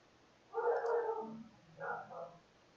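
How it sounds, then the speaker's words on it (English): Dogs barking somewhere in the background: two muffled, fairly distant bursts of barking separated by a short pause, with no talking over them. "Please forgive me for the dogs barking in the background."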